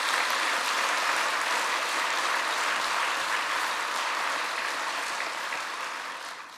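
A church congregation applauds at a 50th anniversary thanksgiving service, an even, sustained roar of many hands clapping that slowly tapers toward the end.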